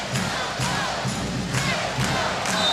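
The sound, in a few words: volleyball arena crowd cheering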